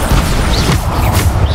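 A brief, loud, crashing burst from the Bombarda blasting spell in the video game Hogwarts Legacy, smashing amid dense, roaring battle noise.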